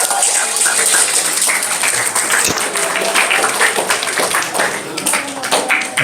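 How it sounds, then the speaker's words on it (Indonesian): An audience applauds through a school career-guidance session, a dense, sustained crowd of clapping hands heard at close range, with a voice talking over it. "Beri tepuk tangan lagi buat Pak Jaka."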